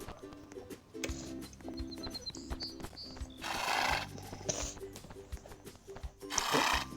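Horse neighing and whinnying in the Roblox game Horse World, with a rhythmic clip-clop of hooves, two louder whinny bursts standing out over a steady game background.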